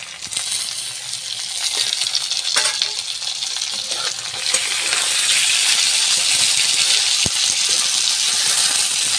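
Chopped beans and green peas frying in a hot wok: a close, continuous sizzle with a few clinks and stirring clatter, swelling louder and more even in the second half, with no talking.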